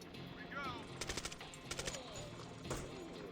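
Machine gun fire in Door Kickers 2, coming as short rapid bursts of sharp shots, two or three clusters of loud cracks over steady background ambience, with some talk mixed in.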